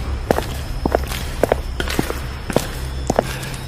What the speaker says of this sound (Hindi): तभी अचानक उसे अंधेरे में किसी के जूतों की चरमराहट सुनाई दी, जैसे कोई उसकी ओर बढ़ रहा हो।